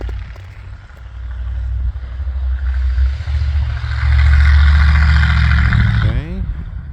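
A Bombardier snow vehicle with transmission mount trouble drives through deep snow, its engine rumbling low and growing louder as it nears and rounds a corner, then fading with a clattering rattle at the end.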